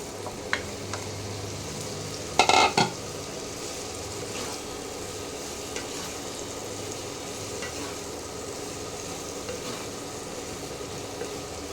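Okra going into hot oil in a pan for a spiced okra dish, giving a steady low frying sizzle with a sharp burst of stirring and clatter near the start, then softer scrapes over the continuous hiss.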